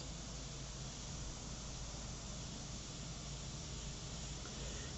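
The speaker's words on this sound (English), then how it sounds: "So when you're airbrushing" An airbrush sprays in a continuous, faint, even hiss, held steady for the whole stretch with no pauses or voices.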